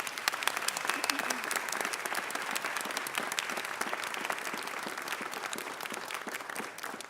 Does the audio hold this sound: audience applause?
yes